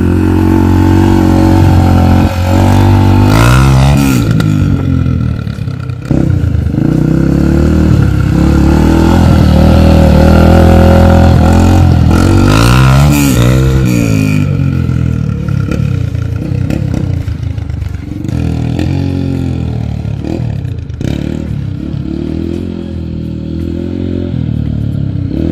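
A Yamaha TTR125 four-stroke dirt bike rips through the woods, its engine loud and close, revving up and down repeatedly with gear changes and rattling clatter throughout, no talking.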